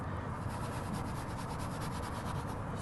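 Leather is scrubbed with leather cleaner, giving a steady, close, faint rubbing and brushing sound with a quick rhythmic back-and-forth texture throughout.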